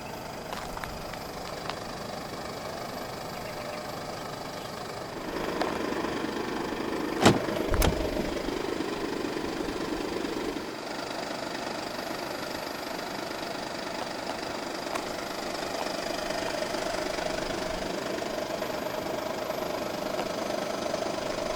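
A 2016 Mercedes-Benz GLE 250 d 4MATIC diesel starts with a brief crank, then settles into a steady, close idle with a soft knocking clatter that continues unchanged for the rest of the run.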